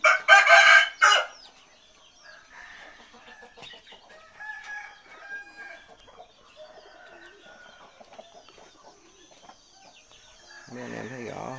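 An aged game rooster of the American-faced fighting breed crows loudly and close at the start, then soft clucks and chicken calls continue through the rest, with some faint voices in the background.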